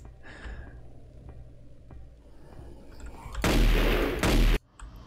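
A short, loud burst of gunfire from the farm shooter game Ollie's Farm, a dense blast of rapid shots lasting about a second after quieter game sounds, then cutting off abruptly.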